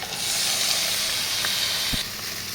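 String beans tipped into a hot frying pan with banana heart for adobong sitaw, giving a steady close sizzle and hiss throughout with a brief clunk near the end.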